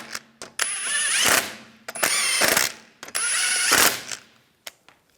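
A ratchet snugs down the lug bolts on a Volkswagen Beetle wheel in three loud, close bursts of rapid clicking, each ending in a sharp stop, with short quiet gaps and small clanks between them.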